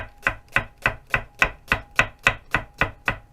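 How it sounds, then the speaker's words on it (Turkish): Eleven evenly spaced knife chops on a cutting board, a quick steady rhythm of crisp close thuds as onion is thinly sliced. "Biz ince piyazlık şekilde soğanlarımızı doğrayalım."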